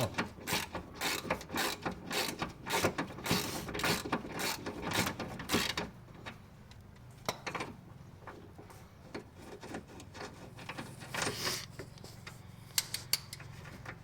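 Socket wrench ratcheting on a Renault 9 Broadway's front left gearbox mount, a fast run of clicks for about six seconds, then a few scattered clicks with low workshop hum, no talking.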